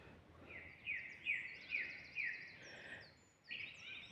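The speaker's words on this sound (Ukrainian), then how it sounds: "Чуєте, друзі, як співає датський соловей" A nightingale sings in spring in Denmark, a faint series of repeated high trilling phrases and chirps delivered in short bursts with brief pauses, heard alone at a distance outdoors.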